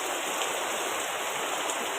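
Steady typhoon rain falls in a dense, even hiss, with no voices or other sounds on top.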